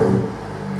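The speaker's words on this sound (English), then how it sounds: "You guys gotta listen to this freaking exhaust sound." A BMW F-series car's exhaust gives a short, loud, close rumbling rev that eases slightly after the first moment.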